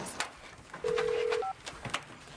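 A telephone rings once in a brief steady electronic tone, followed by a short higher double beep, with faint knocks and background noise around it.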